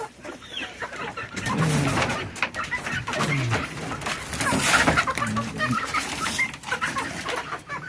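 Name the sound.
chickens clucking while being fed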